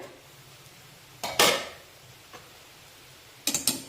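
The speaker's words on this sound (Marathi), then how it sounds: "कढईवरचं झाकण काढूया" A metal lid clanks and scrapes as it is lifted off a wok of leftover-chapati chivda, followed later by a couple of lighter metallic knocks in a quiet kitchen.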